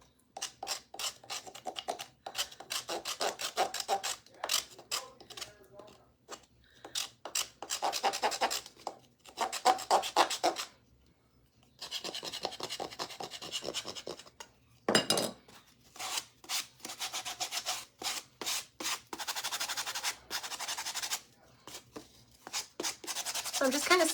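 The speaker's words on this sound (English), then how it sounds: "So I'm just kind of sanding off some of the spots where there's lifted paint." Hand sanding of a painted wooden Dollar Tree birdhouse, working over spots of lifted paint around the bird hole, makes repeated close rasping strokes in bursts with short pauses.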